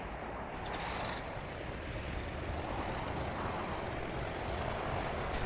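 Steady droning engine of an airship with spinning propeller blades in Worlds Adrift, a constant close, loud whir with broadband rush holding level throughout.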